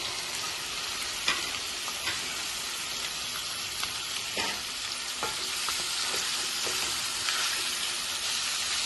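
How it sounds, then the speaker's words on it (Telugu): Country chicken pieces fry in a pan for a raw mango chicken curry, a steady close sizzle broken by scattered scraping and clacking strokes as they are gently stirred, no voices. "చికెన్ పీసులు వేసేసాం కదా, కొంచెం కలపెట్టుకున్నామండి చిన్నగా."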